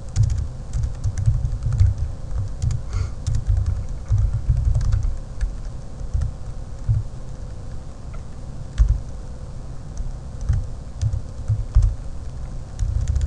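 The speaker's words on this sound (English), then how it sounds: "So let's see what happens when we type this in." Typing on a computer keyboard, close and fairly loud, with irregular clusters of key clicks and thumps, brief pauses between bursts.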